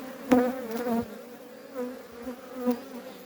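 Bees buzz close by at a beekeeping hive, a rising and falling drone with a few louder passes as insects fly near, and no talking.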